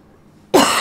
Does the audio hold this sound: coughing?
yes